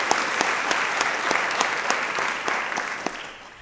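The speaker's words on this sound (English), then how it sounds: "I want to give all of us a round of applause." Dense, steady applause from a university faculty and staff audience at an opening meeting, many hands clapping together in a large hall, loud and continuous throughout with no voices above it.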